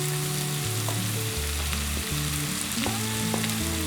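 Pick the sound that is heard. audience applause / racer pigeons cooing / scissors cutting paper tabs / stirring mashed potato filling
stirring mashed potato filling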